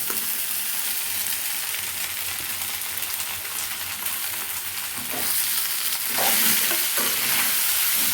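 Washed flattened rice for atukula upma is stirred into hot tempering in a pan, giving a steady sizzle with continuous scraping and tossing that grows slightly louder near the end, with no talk.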